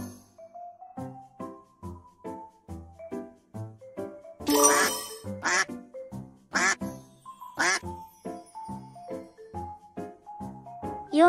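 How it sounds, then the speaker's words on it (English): A duck quacking in a steady series of short, nasal quacks, mixed with a few brighter chime-like tones, clear and close with no talk. "It's a duck."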